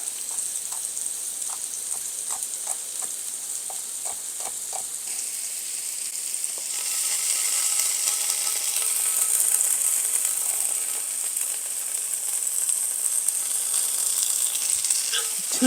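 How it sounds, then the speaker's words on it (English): Onions sautéing in oil in a pan give a steady bright sizzle, with a few light utensil clicks early on and the frying growing louder and denser halfway through, with no voices. "So we're just going to saute the onions"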